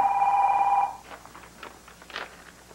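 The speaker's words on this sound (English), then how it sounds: "Scott, why are you answering Kevin's phone?" A telephone rings with one steady electronic tone that stops abruptly, followed by faint handling noise and soft rustling.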